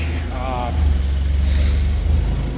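A farm tractor engine, a John Deere 8430 in a shop setting, idles with a steady low rumble and vibration, loud and close throughout, with a brief tonal whine early on.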